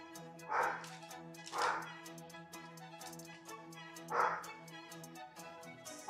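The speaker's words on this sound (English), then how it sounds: "Apologies on the barking in the background." Dog barking in the background indoors during a card pack opening, several sharp barks spaced a second or more apart over a steady musical backdrop.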